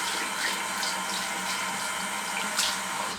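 Hot water runs steadily from a tap into a sink while preparing for a traditional wet shave with a Rex Konsul razor, a continuous close splashing hiss with no talk.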